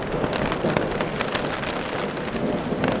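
Heavy rain pours steadily through a thunderstorm in grizzly country, wind pushing the trees around a hammock camp, a dense, constant wash of drops close by with no clear thunder clap.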